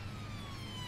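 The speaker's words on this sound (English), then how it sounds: "Another police car." A police car siren wails in the Sandy Bay game, a brief, steady tone held over a low traffic rumble, moderately loud and continuous.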